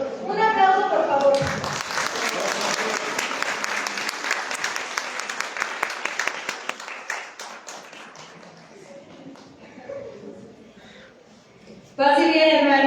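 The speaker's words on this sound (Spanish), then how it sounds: "Un aplauso, por favor." An audience breaks into sustained applause in a hall at a Catholic talk on missionary disciples, a dense wash of clapping that swells, holds, then thins out, with a voice speaking before it starts and again as it fades.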